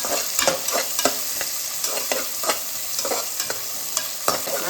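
Ginger, green chili and coriander sautéing in a hot pan, a loud, close, continuous sizzle broken by regular scraping strokes of a stirring spoon, with no talk.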